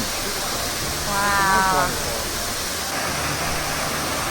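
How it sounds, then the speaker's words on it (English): A waterfall at Cascada Rio de los Cocos in Samaná, Dominican Republic, one of two falls in a gorge, roars as a steady, loud broadband rush from start to finish, with a brief exclamation from a voice partway through. "It's called Cascada Rio de los Cocos, which means waterfall of the river of coconuts"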